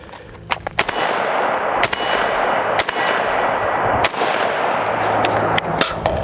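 Rifle shots from a SCAR 16S, Sig MCX or CZ Bren 2 ring out one at a time at an outdoor range, about six sharp cracks spaced unevenly over several seconds, each followed by a clanging ring and decay.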